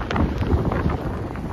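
Wind gusts and drives snow across a petrol station forecourt during a Baltic blizzard, a continuous rough rushing roar buffeting the microphone with no clear pauses.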